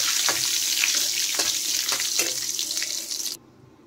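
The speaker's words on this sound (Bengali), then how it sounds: "ফোড়নে আমি দিয়ে দিলাম তেজপাতা, শুকনো লঙ্কা আর কালো জিরে" Bay leaf, dry chilli and kalonji fry in hot oil for a tempering, making a loud, close, steady sizzle with faint crackles that stops abruptly near the end.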